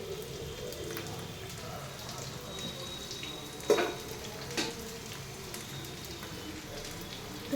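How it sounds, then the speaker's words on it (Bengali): Marinated chicken pakora frying in oil, a steady low crackling sizzle running throughout with one or two louder pops and clinks partway through. "এখন চিকেন পকোড়া বানাচ্ছি।"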